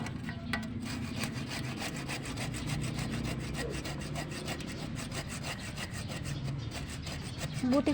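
A hand saw rasps steadily back and forth through wood, its strokes continuous and close, with a brief higher squeak near the end.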